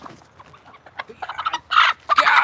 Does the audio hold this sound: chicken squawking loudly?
yes